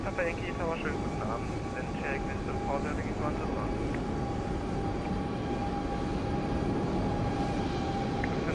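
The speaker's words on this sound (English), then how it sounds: "777 in the background." Boeing 777 jet taking off in Microsoft Flight Simulator 2020 at Frankfurt airport, a steady broadband engine roar held at constant loudness throughout, with a voice talking over it.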